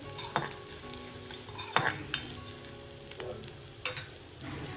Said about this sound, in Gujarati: અને હવે આપણે થોડું સોલ્ટ એડ કરીશું અને આ બધી વસ્તુને એકદમ સરસ રીતે મિક્સ કરી લઈશું.